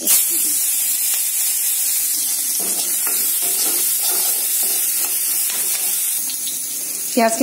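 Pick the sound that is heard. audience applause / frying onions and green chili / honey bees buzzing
frying onions and green chili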